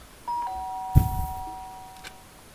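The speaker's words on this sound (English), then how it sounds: "The sharp sound of the doorbell pierced my sleepy haze" A two-tone electronic doorbell chimes once, a clear ding-dong that rings out and fades, with a soft thump partway through, in the video game Danganronpa: Trigger Happy Havoc.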